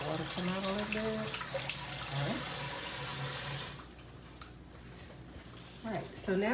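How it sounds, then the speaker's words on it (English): Water runs steadily from a tap into a sink, with a voice speaking over it; the flow thins partway through, then picks up again. "Let the water come out a little bit."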